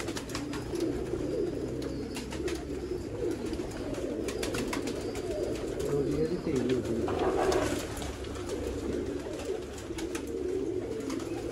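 Sialkoti pigeons coo on a rooftop, a low, soft burbling that continues through the whole clip beneath voices and general background noise.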